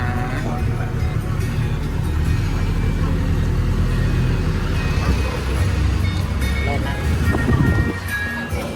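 A free shuttle vehicle carrying passengers to a temple gilding festival rumbles along with steady engine and road noise and wind, while people talk over it.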